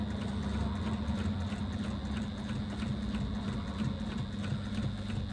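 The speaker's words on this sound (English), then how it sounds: "now I'm just going to baste stitch around the exterior at 1/8 of an inch seam allowance" A sewing machine runs a continuous baste stitch around the exterior of a bag, producing a quiet, steady rapid mechanical chatter with a low motor hum throughout and no pauses.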